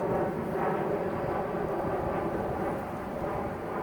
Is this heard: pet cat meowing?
no